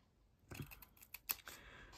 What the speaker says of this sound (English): I've just cut up all of those score lines there